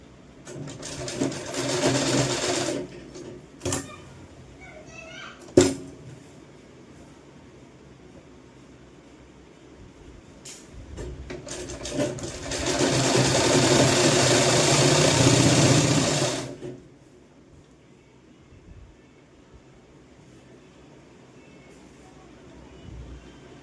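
A sewing machine stitches a sleeveless kurti in two steady runs, a short one at the start and a longer burst midway, with quiet pauses and a few sharp clicks between them.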